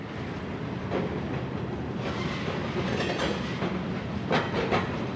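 An ALCO C425 diesel locomotive on the Livonia, Avon and Lakeville shoves railroad cars onto a track in a yard, giving a steady rumble with rail clatter and a few sharper squeals and clanks, no voices.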